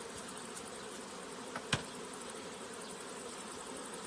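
Honeybees buzzing around beehives at an apiary: a steady, dense hum from a swarm that fills the whole stretch, with one brief louder click partway through.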